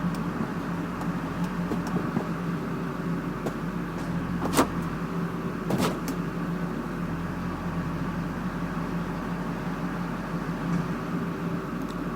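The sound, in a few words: 2002 GMC Sierra pickup engine running in gear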